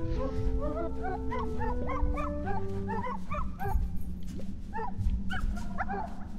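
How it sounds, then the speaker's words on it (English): Dog barking and yipping in the video game Wandersong, in quick repeated bursts over a steady background melody. "Bark!"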